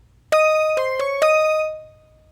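EDM lead layered with a synth sounds a short bright four-note phrase with a ringing bell-like tone, the last note held and fading, played alone.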